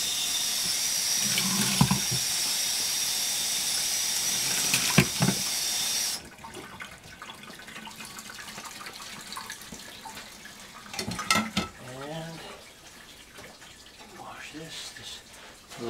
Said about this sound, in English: wash this off.